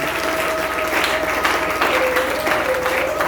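A church congregation claps together in steady, close applause that fills the room, with a faint sustained tone running underneath.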